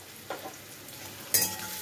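Onion fries in a pan with a soft, steady sizzle, broken by a couple of brief crackles and clicks, with no voices.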